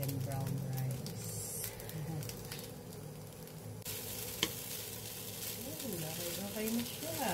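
Red and brown fried rice sizzles in a hot pan as it is flipped and stirred, a steady frying hiss with a sharp scrape of the utensil partway, while someone talks over it.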